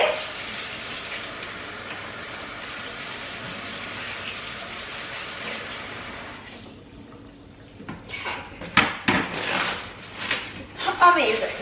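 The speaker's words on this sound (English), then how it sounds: "I'm gonna wash my hands immediately." Hands washed under a running kitchen tap: a steady hiss of flowing water for about six seconds, then quieter splashes and irregular clatters as the flow changes.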